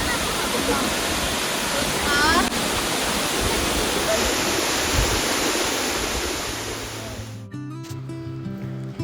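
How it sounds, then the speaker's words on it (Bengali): High waterfall in March with flowing water, a loud, steady roaring rush heard close up that fades slightly toward the end as other sounds take over. "খুব সুন্দর ফলস, অনেকটা উঁচু, এবং এখন জলও আছে দেখছি।"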